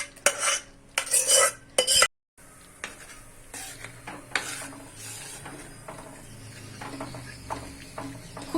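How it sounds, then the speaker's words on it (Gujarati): Prepared gravy goes into hot oil in a pan for a paneer and peas dish, with bursts of sizzling and spoon scraping at the start. After a brief pause comes softer stirring, clinks of metal on the pan and a low, steady fry. "તો હવે એમાં આપણે આ જે ગ્રેવી બનાવેલી છે એ બધી જ ગ્રેવી એડ કરી દઈશું."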